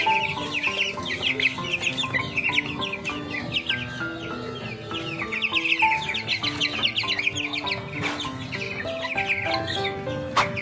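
Broiler chickens in a poultry house during hot weather, about eighteen days old, cluck and chirp constantly as a dense flock, loud and close with no voices.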